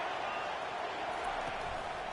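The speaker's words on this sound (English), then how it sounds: "this crowd is tearing the lid off this place" A packed football stadium crowd roars on third down, a dense, steady wall of noise that stays loud and unbroken throughout.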